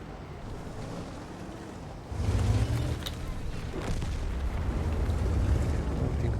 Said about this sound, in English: we get shot at by the arty